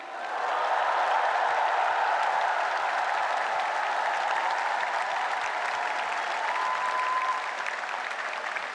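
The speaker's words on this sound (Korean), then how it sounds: "우리 두 분 후보님께 뜨거운 격려의 박수를 부탁드립니다." A large crowd at a Korean Democratic Party presidential nomination acceptance event gives sustained, dense applause. The clapping stays loud and steady for the whole stretch, then eases slightly near the end.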